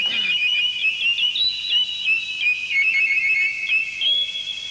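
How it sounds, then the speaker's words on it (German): Cartoon canary, the blue bird of happiness in a Smurfs cartoon, singing a continuous high, trilling, whistle-like song that warbles steadily and close up throughout, with no talk over it. "Ich hasse den blauen Glücksvogel zu hören."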